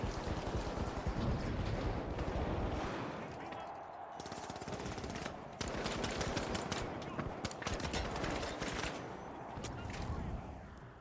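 Video game combat with continuous rapid automatic gunfire and loud explosive bursts, including a frag grenade, dense and sustained throughout, with a voice faintly underneath.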